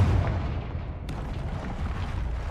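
A Confringo blasting spell explodes in the video game Hogwarts Legacy. One sharp, sudden blast cracks out midway over a low, rumbling game ambience, with no speech.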